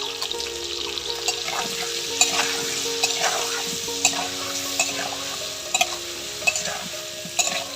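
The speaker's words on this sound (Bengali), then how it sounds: "আলুগুলো ভালো করে নাড়িয়ে চাড়িয়ে দিলাম নুন হলুদ দিয়ে এবং কড়া করে ভেজে নেব" Potatoes seasoned with salt and turmeric sizzle steadily in a pan over a wood-fired village stove, with scraping stirs and occasional clinks of the utensil against the pot.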